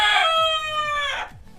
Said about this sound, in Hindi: काली मुर्गी काले गोश्त वाली।